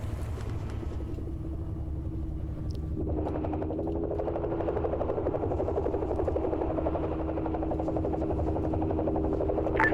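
A Mi-26 heavy transport helicopter in a military video game drones overhead as a steady, low rumbling rotor and engine hum that swells slightly and then holds constant, with no talking.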